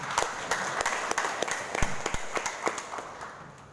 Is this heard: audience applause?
yes